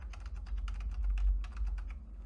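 A URL is typed on a computer keyboard, about a dozen quick, light key clicks in an uneven rhythm, close and fairly quiet over a low hum.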